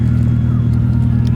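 Car engine idling to warm up in cold weather, a loud, steady low rumble close by that holds even through the brief moment.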